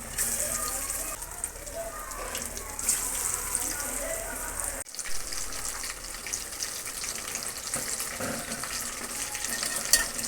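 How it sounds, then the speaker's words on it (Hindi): Masala-marinated fish for Lahori fried fish fries in hot oil with a constant, loud bubbling sizzle and scattered crackles. There is a brief dropout midway, then the sizzle resumes just as strongly. "मछली फ्राई कर रहे हैं।"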